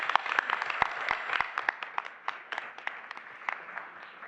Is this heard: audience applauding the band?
yes